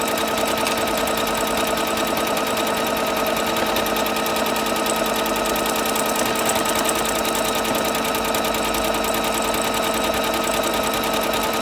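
A Bernette Sew Go 8 sewing machine stitches a keyhole buttonhole for a jacket or coat, its needle running in a fast, steady, close-up mechanical chatter that stays loud and even throughout, with no talking.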